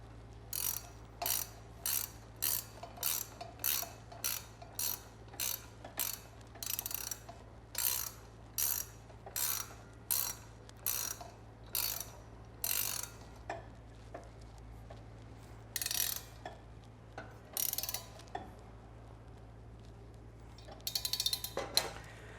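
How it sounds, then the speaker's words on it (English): A ratchet wrench tightens the blade nut on a woodshop table saw, giving a steady run of sharp, close clicking bursts in quick rhythm, pausing partway and then resuming, over a low constant hum. "I'm just going to use the ratchet to finish it off"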